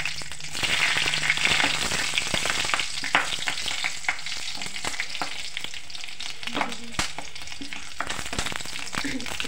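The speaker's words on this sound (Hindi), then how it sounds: "अब इसमें हरी मिर्च डाल देंगे," Green chillies hit hot oil with cumin seeds while tempering chana dal, producing a loud, steady hiss and crackle with scattered spattering pops and occasional scrapes of stirring.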